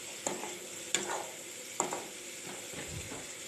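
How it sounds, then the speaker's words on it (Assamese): Garlic and cumin seeds frying in a pan give a steady close sizzle, broken by a few sharp scrapes of a spoon stirring at regular intervals, with no talking. "এয়া চাওক এইখিনি ভালদৰে ভুনি ল'ম।"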